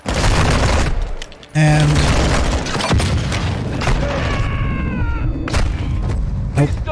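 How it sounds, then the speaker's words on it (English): A grenade goes off in the Call of Duty Modern Warfare 2 campaign: a loud, close boom bursts out amid rapid game gunfire and mechanical clatter. A voice briefly speaks. "Got a grenade coming in."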